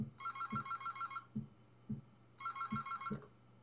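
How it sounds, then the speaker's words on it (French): A telephone rings in two bursts of rapid trilling tones separated by a pause, fairly quiet, with faint knocking sounds underneath. "Coup de téléphone."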